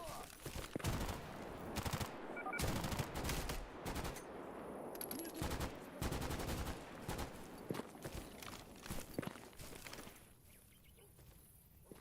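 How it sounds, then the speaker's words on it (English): A PPSh submachine gun fires in rapid bursts in STALKER GAMMA with the Gunscape mod, loud and close, with dense strings of shots broken by short pauses, tapering off toward the end. "This is the first time I've used the PPSH. I did not know it sounded like this."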